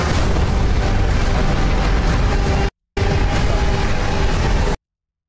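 Heavy bombs explode in a War Thunder game trailer, a loud continuous roar of blasts and rumbling booms that cuts out briefly, then resumes before stopping abruptly.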